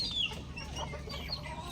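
A hen clucks softly in a short burst of low, close clucks at a backyard poultry setting, with faint background noise and no talk.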